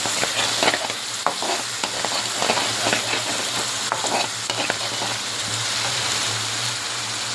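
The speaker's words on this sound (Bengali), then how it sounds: "মিষ্টি মরিচ, ভালো করে কষিয়ে নিতে হবে" Sweet peppers sauté in a hot pan, a loud continuous sizzle broken by repeated scraping strokes of a spatula stirring them, close and busy throughout.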